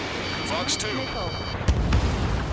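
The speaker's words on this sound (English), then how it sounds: "Missile hit." A missile strikes its target in the Ace Combat 7 flight game: a low booming impact near the end, over steady jet drone, with radio-style voices talking before it.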